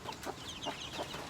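Pet hens cluck close by in a few short, rhythmic bursts over a soft wet outdoor background.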